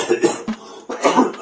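A man coughs several times in quick harsh bursts, close and loud, with brief pauses and a throaty rasp between them.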